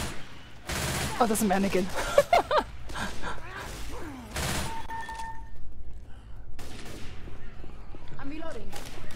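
Gunfire in the Left 4 Dead 2 hotel chapter: loud, close bursts and sprays of bullets crack out in clusters, while a voice speaks between the shots.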